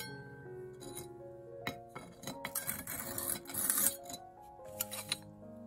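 A metal scraper rasps and clinks as fused glass residue is scraped off a kiln shelf, with irregular, close-up scratchy strokes and small glassy ticks.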